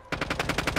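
Rapid automatic gunfire from Call of Duty: Modern Warfare II, a steady burst of about seven evenly spaced close shots after a short quiet start, loud and alone.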